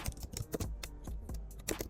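Code being typed on a computer keyboard: quick, close, fairly soft key clicks in irregular bursts, with no voice.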